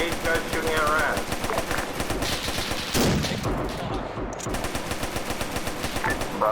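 Rapid automatic gunfire in a military shooter game, dense continuous bursts of rattling shots throughout, loud and close, with a brief louder blast midway and a voice talking over the shooting.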